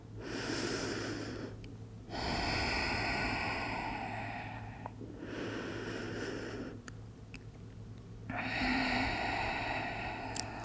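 Slow, deep breaths in a yoga child's pose, long audible inhales and exhales through the nose and mouth in a calm rhythm, close and fairly soft, with short pauses between breaths and no talk.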